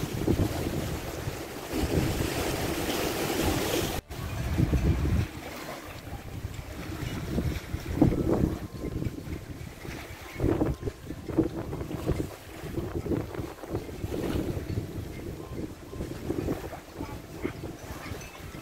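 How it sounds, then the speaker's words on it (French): Waves on Lake Geneva wash and splash along the shore in uneven surges, heavy wind buffeting the microphone throughout, with no talking. "il y a des vagues."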